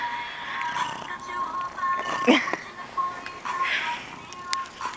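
A cat meows a few times at close range, drawn-out and plaintive, between quiet stretches.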